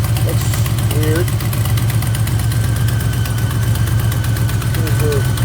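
A 1976 Gran Fury station wagon engine idles at close range, a steady low rhythmic throb running unbroken throughout with a faint higher whine above it.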